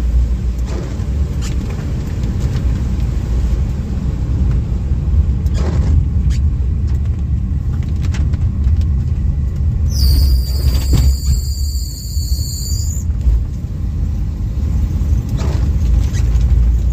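A car travels along the Waghoba ghat road near Palghar in monsoon season, with a steady low engine rumble and road noise throughout, a few passing swishes and a brief high-pitched tonal squeal midway.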